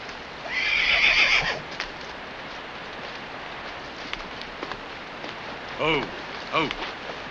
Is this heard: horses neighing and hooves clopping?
yes